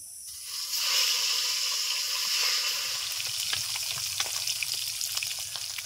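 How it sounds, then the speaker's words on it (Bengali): Pabda fish fries in mustard oil with a steady, loud sizzle and hiss that holds throughout, with faint stirring clicks and no talking. "এই কয়টা রয়েছে, তো চলো ভেজে নেওয়া যাক।"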